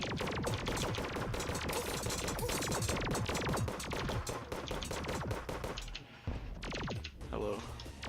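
Video game gunfire comes in rapid, dense bursts of sharp shots, loud and continuous, then thins into scattered single shots and impacts, with a voice talking over it.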